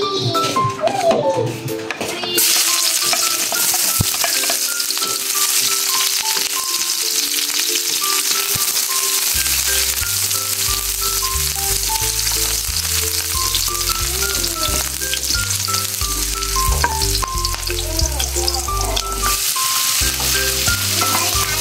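Garlic and onions frying in a pan at lunchtime, a steady close sizzle running throughout with faint stirring, while music plays underneath.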